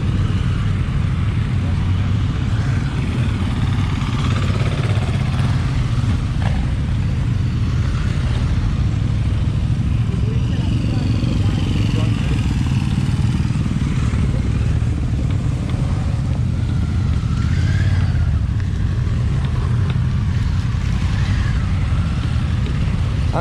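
Honda motorcycles riding out together at a bike festival, a continuous loud rumble of many engines passing close by, overlapping throttle blips within the crowd noise.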